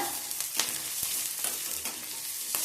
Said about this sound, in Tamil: நல்லா வதக்கி விட்டுலாம். இந்த எண்ணெயிலேயே நல்லா வதங்கி வரணும்.